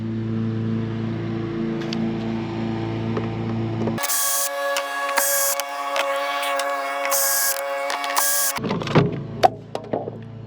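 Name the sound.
removing four cover screws from a Firman dual fuel generator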